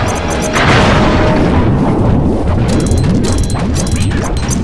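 A bomb goes off in the video game Sly 3: Honor Among Thieves with a heavy, close boom followed by a dense crashing rumble that holds steady and loud for several seconds, with no talking.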